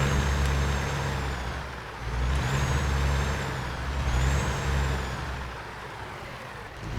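A truck backing up a trailer in American Truck Simulator, a low, rumbling diesel idle that swells and eases, with repeated high whining tones rising and falling over it, no voices.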